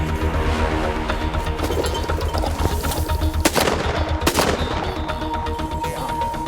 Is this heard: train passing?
no